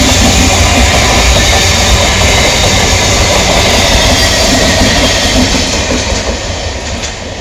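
A train rolls steadily past close by near Shyamnagar railway station in West Bengal, a loud continuous rumble of wheels with clickety-clack on the rails and occasional faint squeal, easing slightly toward the end.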